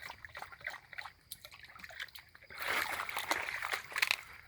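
A dog wades in a shallow creek, sloshing and trickling through the water as it washes off mud. Splashing is soft early on and grows louder and busier toward the end, with faint movement throughout.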